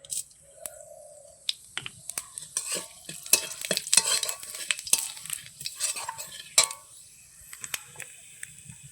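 Five-spice seeds crackle and fry in a kadai, a thin sizzle punctuated by sharp pops and quick metallic spatula clicks, with brief stirring scrapes throughout.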